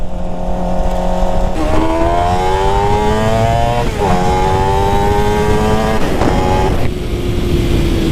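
A Suzuki GSX-R 600 sport bike engine runs loud and close, its pitch climbing in smooth revving sweeps, easing briefly and rising again before settling to a steady drone.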